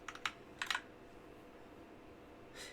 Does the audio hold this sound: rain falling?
no